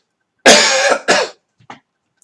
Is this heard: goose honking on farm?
no